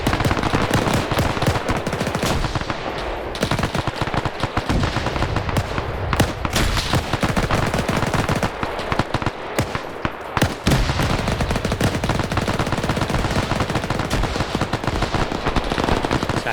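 WW2 video game battle with loud, dense gunfire throughout: rapid machine-gun bursts and overlapping rifle shots, close and continuous with brief lulls, no speech.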